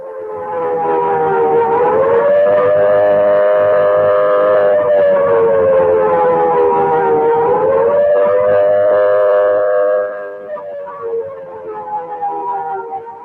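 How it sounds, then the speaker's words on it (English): A loud civil defense air raid siren sounding the red warning for imminent attack wails steadily, its pitch rising and falling in slow cycles before fading slightly near the end; no voices. "This siren is sounding the red warning."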